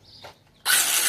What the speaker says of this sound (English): Portable saw.